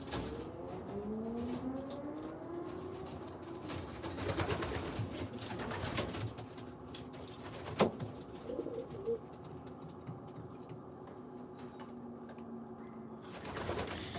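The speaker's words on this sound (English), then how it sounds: "I'm fascinated by these birds." Racing pigeons coo softly in an enclosed pigeon loft, low throaty calls repeating under a steady background hum with occasional rustles and a brief clank.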